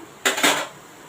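A metal lid set onto a pan of onion and tomato cooking over low heat: two quick clanks close together, then a short ringing fade.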